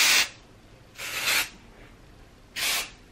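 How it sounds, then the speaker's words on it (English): Living Proof Full Dry Volume Blast texture spray hisses onto curly hair in three close, loud bursts with short quiet gaps between them. "It's the Living Proof Full Dry Volume Blast. So it's like a texture volume spray."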